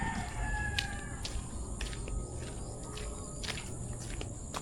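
Gamefowl roosters crow during a morning feeding. Several clear crows repeat over a constant background hiss, with faint movement and no voices.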